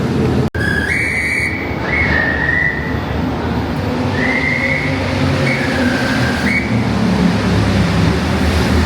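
A Mexico City metro train ride: a loud, constant rumble of the carriage, with several brief high tonal whistles or chimes sounding over it and no one talking.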